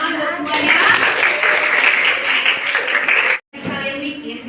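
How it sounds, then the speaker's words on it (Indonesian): A classroom of students claps for everyone after four groups finish their assignment. The applause is steady and close, with voices mixed in, then cuts off abruptly near the end before a brief return. "Tepuk tangan buat semuanya."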